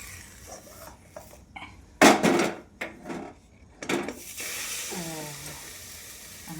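A vegetable egg omelette cooks in a lightly oiled pan as a spatula scrapes and rubs against it in a few loud, rough strokes over a soft sizzle, with a voice briefly near the end.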